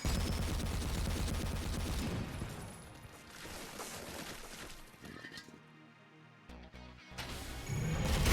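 Rapid gunfire from the Supplice video game crackles in dense bursts for about two seconds, then thins into scattered cracks and game noise before another loud stretch of shots returns near the end.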